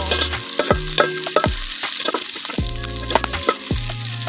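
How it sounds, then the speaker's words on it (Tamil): Onion and garlic sautéing in hot oil for sambar, a continuous sizzle broken by repeated clattering scrapes of a spoon against the pan at an uneven, unhurried rhythm, close and clear with no talking. "வெங்காயம் நல்லா வதங்கிடுச்சு"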